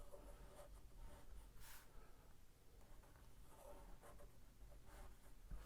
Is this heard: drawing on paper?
yes